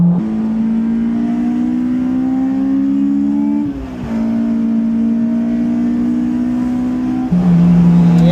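A 250-horsepower car engine revs hard while driving, loud and close, its pitch climbing steadily through gear pulls with two clear drops at the shifts before climbing again, no talking over it.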